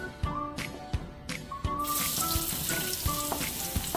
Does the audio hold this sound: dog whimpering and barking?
no